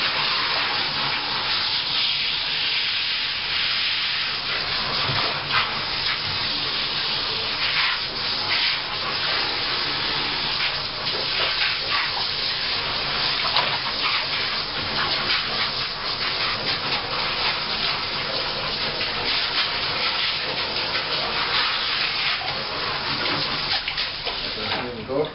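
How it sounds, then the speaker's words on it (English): Water rinsing a big stuffed plush animal doll during a wet wash, a steady, continuous rushing and rubbing wash of sound that runs throughout, with a voice talking over it. "Trying to wash it away, rinse it away, just like that."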